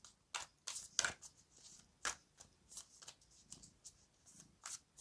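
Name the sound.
shuffling cards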